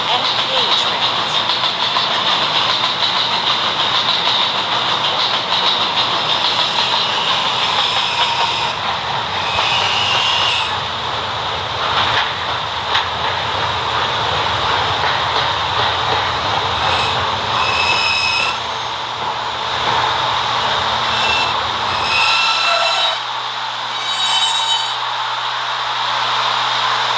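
A B train running on the K line in a video game, a steady rumbling drone of motor and wheels that stays loud throughout, with automated announcements over it before the sound drops toward the end.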